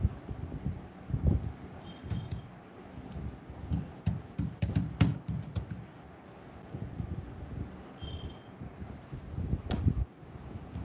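Typing on a computer keyboard during a live Cloud/DevOps coaching session, with irregular bursts of close, light key clicks and taps separated by short pauses.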